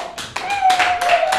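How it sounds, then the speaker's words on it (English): An audience at a student business league contest claps in a brief flurry of scattered hand claps, close and fairly loud, over a faint steady tone. "They deserve some applause again."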